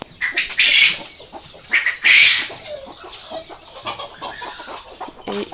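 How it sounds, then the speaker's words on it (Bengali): Farm chickens cluck and squawk at close range while being fed, with a couple of loud flurries that may be flapping wings over a busy background of softer clucking. "মুরগিগুলোকে একটু খাবার দিই।"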